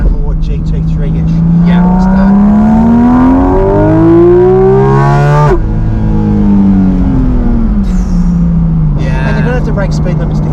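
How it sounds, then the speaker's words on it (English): Porsche GT4 RS engine with a retuned, GT3-like note, rising and falling through revs as the car accelerates, loud and close, with harmonics sweeping up then easing back, continuous through the clip. "it's given the car a totally different note, both inside and outside, to make it sound more GT3-ish."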